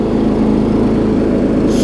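A John Deere 125 riding lawn mower drives along with a loud, steady low engine drone and rumble, close by and continuous throughout, with no talking.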